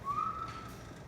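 A person gives one short, clear whistle that holds a steady pitch and then slides upward, heard alone against a quiet room.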